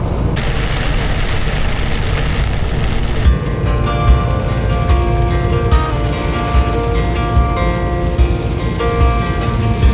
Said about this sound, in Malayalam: നല്ലൊരു കിടില മഴ കേട്ടോ